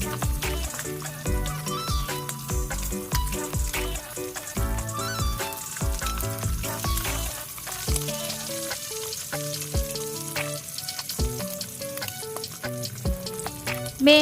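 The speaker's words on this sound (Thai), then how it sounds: "ทอดไปเรื่อยๆ นะคะ จนกรอบทั้งสองด้านก็ตักขึ้นได้เลยค่ะ" Thai-style pork belly pieces frying in hot oil until crisp, a steady close sizzle and crackle running throughout over light background music.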